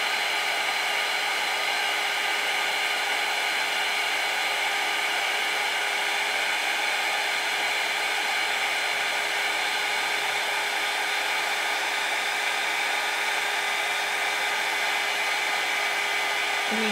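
A hairdryer blows steadily at close range to melt material for a DIY home decor project, giving an unbroken, loud whooshing roar with a constant motor whine throughout.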